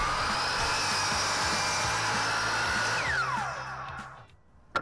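A power saw rips a 2x6 board lengthwise with a loud, steady high whine and buzzing cut that runs for several seconds, then spins down and fades, ending with a brief knock.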